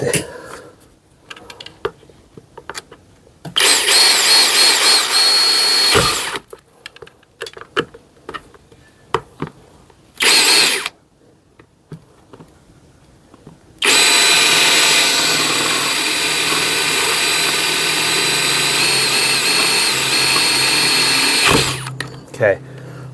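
Power drill boring holes into a plant pot while repotting a Queen Anthurium: loud, sustained whirring bursts of several seconds each, separated by quieter handling clatter and tapping, with the longest run near the end.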